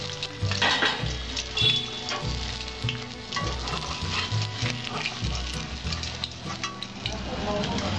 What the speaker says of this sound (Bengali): এইভাবে আমি সবকটা মাছ ভেজে নেব